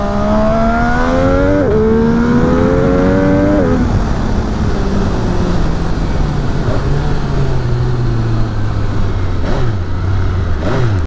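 An MV Agusta F3 800 RR three-cylinder motorcycle accelerates hard, its loud rising engine note interrupted by quick quickshifter gear changes, then settles into a long falling tone with wind roar and no talking.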